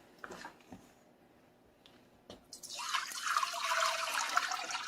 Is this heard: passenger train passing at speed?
no